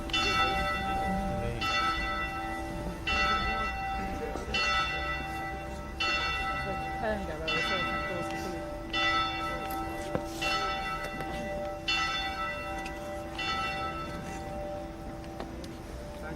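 A church bell at the Tower of London tolls slowly and repeatedly, about eight evenly spaced strokes ringing over steady background noise, with a brief word spoken near the end.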